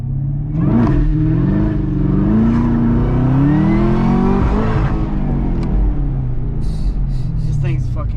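A Chevrolet Camaro ZL1 in track mode launches from a dig on snow and ice, its engine note climbing steadily and loudly as it accelerates hard, then easing off near the end.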